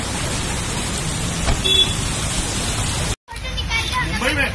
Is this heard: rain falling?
yes